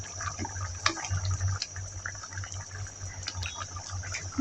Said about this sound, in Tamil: இப்போ நான் 1வது தேங்காய் பாலை சேர்த்து விடுறேன்